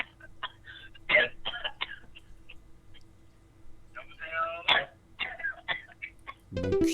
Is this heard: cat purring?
no